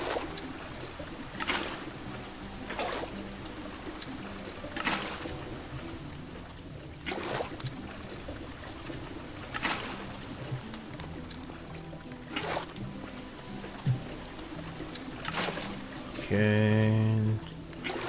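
Witch water from the Star Technology modpack in Minecraft trickles and pours in soft repeated bursts roughly every couple of seconds, with a brief tonal game sound near the end.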